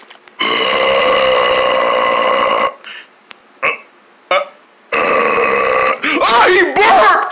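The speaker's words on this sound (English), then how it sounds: "He burped!" A long, loud, droning burp from a cartoon-style character fills the first seconds, followed by voices talking and reacting.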